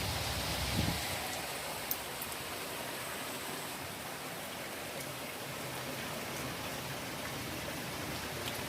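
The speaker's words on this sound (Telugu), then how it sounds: "ప్రొద్దు ప్రొద్దున్నే వర్షం మాత్రం భలే బాగా పడుతుంది" Steady early-morning rain before sunrise pours down in a dense, even hiss, constant and fairly close, with no voices and hardly any other sounds breaking through.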